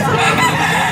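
A bull stag rooster crows loudly and close at a busy pet market, one brief, strained call filling the moment.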